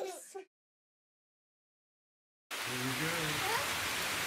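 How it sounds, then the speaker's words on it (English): Steady rain hisses outdoors after a brief voice and a gap of silence, with a voice speaking over the rain near the end. "We're gonna go out there in the rain."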